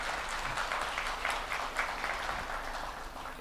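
Faint, distant round of applause from a conference audience at Flutter Conf India, soft scattered clapping lasting a few seconds.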